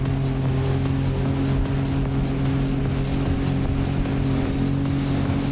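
A four-seat Bombardier watercraft engine drones loud and steady on open water, a constant throaty hum with faint rhythmic pulsing and splashing, holding at high revs throughout.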